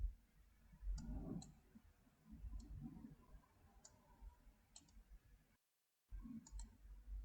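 Computer mouse clicking while selecting areas in image software, sharp isolated clicks spaced irregularly a second or so apart over faint low room noise.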